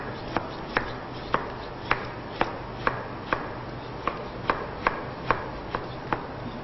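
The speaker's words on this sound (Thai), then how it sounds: "ถ้าขูดไม่ได้เราก็จะมาหั่นเป็น เส้นบางๆ ใส่ลงไปได้นะคะ" A knife chops daikon radish into thin strips on a cutting board, about fourteen crisp, evenly spaced strokes close by with no talk.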